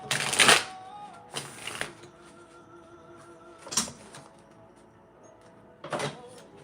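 Crisp tarot cards shuffled in several short riffling bursts separated by quiet pauses, close and fairly quiet, with no talking over them.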